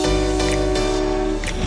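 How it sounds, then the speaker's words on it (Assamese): A passenger train sounds its horn loudly and close by, a steady, sustained chord held for over a second over the rumble of the train. "আমাৰ যাত্ৰা আজি ট্ৰেইনেৰে।"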